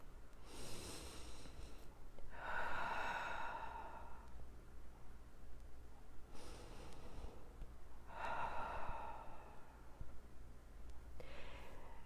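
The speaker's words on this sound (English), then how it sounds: "just breathe in and out gently" Slow, gentle breathing during a quiet guided relaxation, with soft inhales and exhales coming in a relaxed rhythm of about four breaths, close and calm, with no talk.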